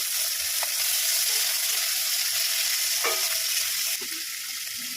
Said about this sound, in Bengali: পেঁয়াজটা কেটে রেখেছিলাম, পেঁয়াজটা ভেজে নেব